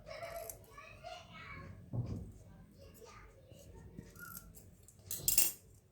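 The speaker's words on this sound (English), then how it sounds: "cut off the excess paper" Scissors snip excess paper while a birthday card is being made, a few short crisp cuts at close range amid quiet handling noise and a voice in the background.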